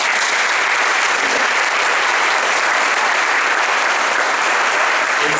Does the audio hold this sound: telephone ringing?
no